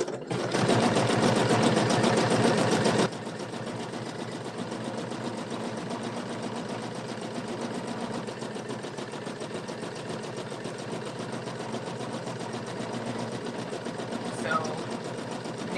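Computerized embroidery sewing machine stitching the bottom container section of a design, a steady rapid mechanical whirr running continuously near and fairly loud, briefly louder at the start, with a person talking over it.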